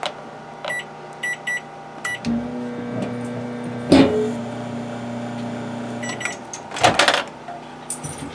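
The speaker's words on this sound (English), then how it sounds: "Microwave's on, which I don't think we really need." A steady low electrical hum of a running microwave oven in an old camper, with scattered beeps and clicks over it and a brief clunk partway through.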